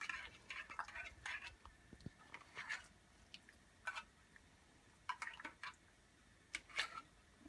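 A utensil scrapes and taps against a pot while cream is stirred into Thai green curry chicken, giving irregular light clinks and soft wet swishes close by, with no talking.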